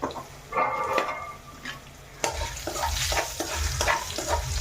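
Three dried red chillies fry in a pan with a soft, steady sizzle, broken by stirring scrapes and clatter that grow louder partway through.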